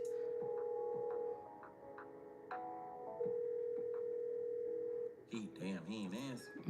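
A phone call rings out with steady dial-tone style beeps in long repeated tones, loud and close, before a burst of other sound cuts in near the end.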